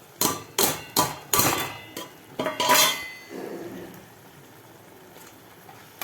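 Several sharp metallic clanks of a utensil against a pan in quick succession, followed by a soft, steady sizzle of plantain sautéing with spices and coriander in the pan.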